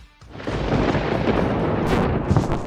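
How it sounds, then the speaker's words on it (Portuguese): Thunder booms and rumbles outside, a loud, sustained roll lasting a few seconds after a brief quiet start, with a sharper crack partway through. "Um som de trovão irrompe lá fora, tirando a agulha do vinil do lugar."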